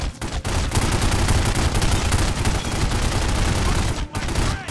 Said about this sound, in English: There's someone firing in my left side